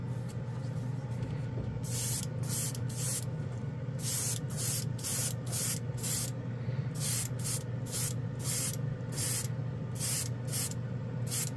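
An airbrush sprays chrome ink taken from a marker in short, repeated hissing bursts of roughly half a second each, close and steady, over a constant low background hum.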